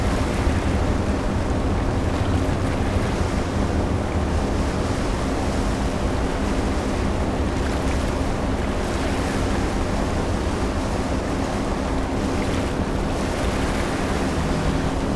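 A ship in Seafarer: The Ship Sim moves across calm, glassy water at about 30 knots, giving a steady, loud rush of water and wind noise that runs unbroken throughout, with no talking.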